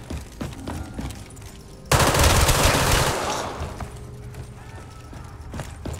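Gunfire in Call of Duty Black Ops 3 zombies: a sudden burst of rapid automatic shots about two seconds long, loud against quieter game ambience, with scattered single sounds before and after.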